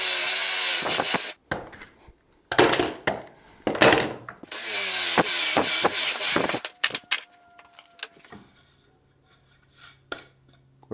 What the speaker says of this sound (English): All right, so now that we got that drilled